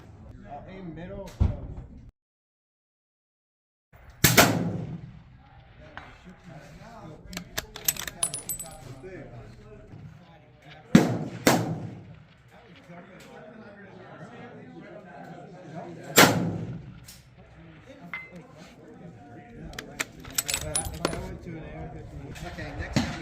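Rifle shots fired at long-range 12-inch square steel targets through a 5-25x56 scope, heard as three or four sharp loud cracks spaced several seconds apart, with talk between the shots.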